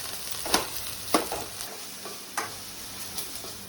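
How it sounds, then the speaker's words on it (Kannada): Onions roast toward golden brown in a pan over a low gas flame, giving a steady soft sizzle punctuated by several sharp stirring scrapes, close up with no talking. "ಆನಿಯನ್ ಒಳ್ಳೆ ರೋಸ್ಟ್ ಆಗಬೇಕು, ಗೋಲ್ಡನ್ ಬ್ರೌನ್ ಕಲರ್ ಅಲ್ಲಿ ಬರಬೇಕು"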